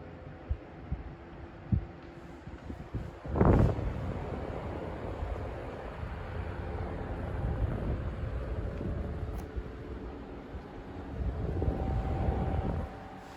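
A small electric desk fan, one of several makes such as Indola, Frost, Polar Cub, Vortice or GEC, whirs steadily with a broad airy rush that swells gradually as it spins up, after a few clicks and a bump.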